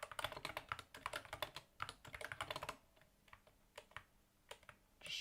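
Fast, close computer-keyboard typing in dense bursts of clicks for about three seconds, then a few sparse, quieter keystrokes with gaps between them.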